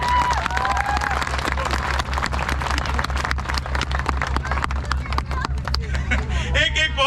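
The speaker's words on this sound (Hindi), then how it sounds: "एक बार जोरदार तालियां बजाइए।" An audience claps at a Hindi comedy poetry gathering for Holi in Hisar, Haryana. The applause is loud and sustained, with crowd murmur and voices mixed in, and it thins out near the end.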